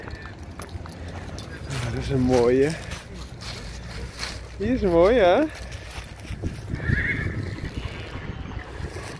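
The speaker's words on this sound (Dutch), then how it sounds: "Kijk weer het paardje." A horse neighs twice in clear, loud whinnies near the listener during a countryside walk past sheep, while people talk in Dutch around the calls and faint hoof sounds mix into the background.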